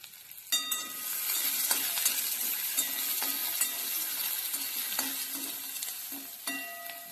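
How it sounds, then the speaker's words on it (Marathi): Finely chopped onion frying in oil in a pan, a steady close sizzle with occasional stirring clicks and scrapes running throughout without talk. "तेलामध्ये आता आपण बारीक चिरून जो कांदा घेतला होता तो कांदा आपण टाकूया"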